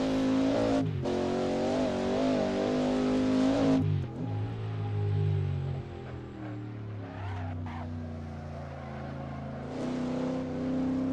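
A Ford GT40 racing at Bridgehampton in a historic sportscar racing game roars loudly and continuously, its engine note climbing, dropping through gear changes and revving again.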